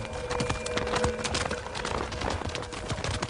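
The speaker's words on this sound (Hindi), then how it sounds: "घोड़ा कहाँ ले जा रही हो?" A horse's hooves clip-clop at a steady walking pace on hard ground, close and fairly loud, with faint ambient noise around them.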